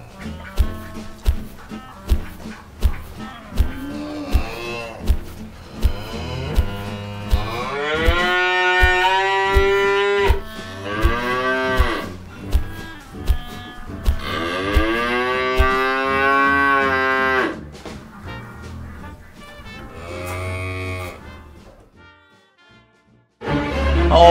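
Cattle moo loudly and at length, with drawn-out calls rising and falling over a steady, regular thumping pulse, several moos in a row close by.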